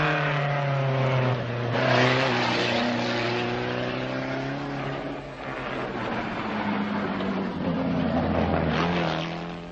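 A Russian Moskvich rally car competing in the 1978 Danube Rally, its engine revving continuously with rising and falling pitch, loud and close throughout without any talk.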